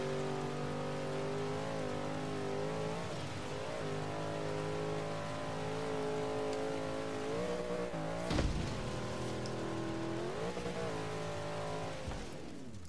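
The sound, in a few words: car engine revving while driving, from video game Forza Horizon 3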